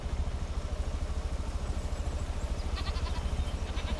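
Goats bleat in short calls near the end, over a steady low engine-like rumble throughout, on a farm with two newly arrived adult goats, one male and one female.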